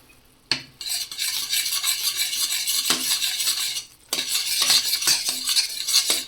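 Gram flour is stirred into boiling water in a pot while making Maharashtrian pithla, with close scraping and clinking of a spoon against the metal vessel in uneven strokes over a bubbling hiss. Two short pauses break the stirring.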